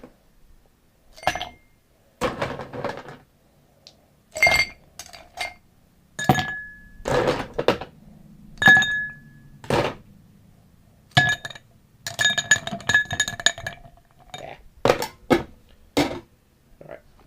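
Glassware and ice clink in sharp, scattered bursts while a shaken and strained highball cocktail with Everclear is prepared, bright clinks recurring every second or two with quiet gaps between and no talk.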